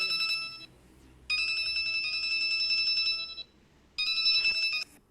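A phone ringtone plays in repeated bursts, a bright electronic melody sounding three times with short pauses between, fairly close and clear.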